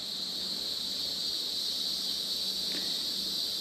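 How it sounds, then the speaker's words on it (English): Cicadas in dry summer weather at a mountain-top wilderness cabin site drone in a steady, unbroken, high-pitched hum that fills the whole stretch, with no voices. "You can always tell after about the 4th of July when the cicadas sound changes, and I think of it as kind of the dry weather sound."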